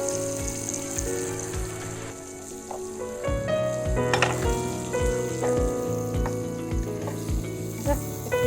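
Prawns sear in a pan with chili and garlic, giving a loud, continuous, close-up sizzle that swells midway, with a rhythmic music track playing underneath.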